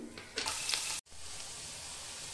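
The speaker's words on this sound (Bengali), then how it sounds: "তো দেখো এবার আমার তেল গরম হয়ে গেছে, আমি গরম মশলাটা দিয়ে দিলাম।" Garam masala hits hot oil in a pan with a bright, crackling sizzle, a brief sharp burst, a short break, then a steady, softer fry continuing at close range.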